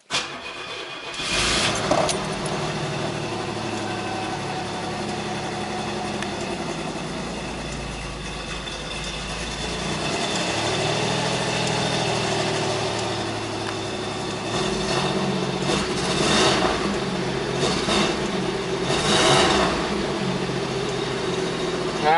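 A Pontiac Firebird engine, fresh premium fuel and Marvel Mystery Oil added, starts with a cranking burst, then settles into a steady idle with several rising revs near the microphone.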